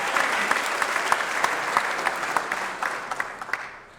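Audience applause at a chamber of commerce small business awards event, a steady dense wash of many hands clapping filling the room for several seconds, fairly loud and close with no talk over it.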